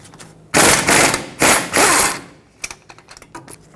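Bursts of rapid ratchet clicking as two 21mm brake caliper bolts are loosened on the front knuckle of a 2003-2012 Chevrolet Colorado, with loud spurts early on and lighter scattered clicks afterward.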